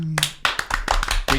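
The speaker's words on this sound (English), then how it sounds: "We clap the news now." Podcast hosts clapping to introduce the news, a handful of sharp, close hand claps in an uneven burst, with brief speech at the start.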